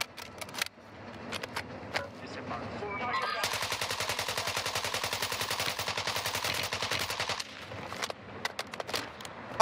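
TR-76 Geist assault rifle firing in Warzone 2, with scattered single shots and short bursts, then a long sustained burst of rapid automatic fire at close range, followed by a few more isolated shots, over faint game ambience.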